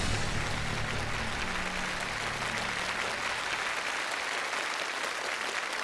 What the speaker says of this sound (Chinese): 掌声送给两位挑战成功的选手